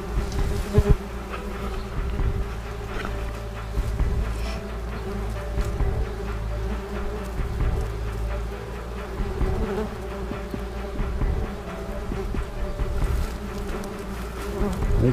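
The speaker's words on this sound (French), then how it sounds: "une petite nid de guêpe germanique" German wasps buzz steadily around a small nest, a dense close drone that continues for the whole stretch with no speech over it.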